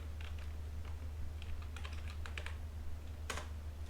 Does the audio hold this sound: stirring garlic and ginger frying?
no